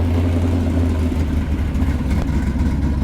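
A 1986 Jeep CJ7 with dual exhaust and dual mufflers rumbles close by, its low engine note swelling slightly as it revs over a few seconds.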